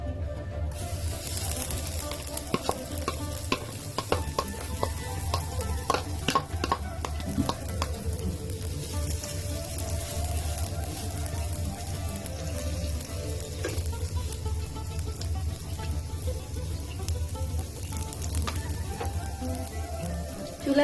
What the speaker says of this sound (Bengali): চুলার হিটটা ধিমা আঁচ করে দিবেন, তাহলে জিনিসটা খুব সুন্দর ভাজা হবে, পুড়ে যাবে না।